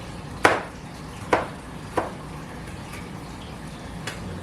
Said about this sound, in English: Dice a quick onion.